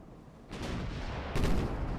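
Warship guns firing in the naval game Ultimate Admiral: Dreadnoughts, with the heavy cruiser HMS London in 1904: two heavy booming salvos about a second apart, each rolling into a loud sustained rumble, with no speech.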